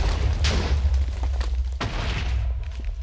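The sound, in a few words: explosion in the video game Minecraft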